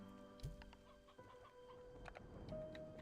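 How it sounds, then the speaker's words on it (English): A hen clucks in the Slime Rancher 2 video game, a few short clucks over a steady background of game music and ambient tones. "Let's go put this hen over here."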